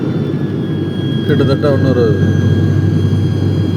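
Airliner cabin during descent toward Bangalore, with a steady loud low engine roar and rushing air throughout, while someone talks over it.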